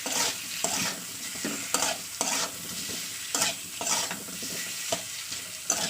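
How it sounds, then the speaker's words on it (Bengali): Potatoes fry in a pan with ginger-garlic paste and spices, a close steady sizzle broken by repeated scraping stirs of a spatula in an uneven rhythm, with no talking. "এটাকে আবার দিয়ে একটু ভাজা করে নেবো মশলার সঙ্গে"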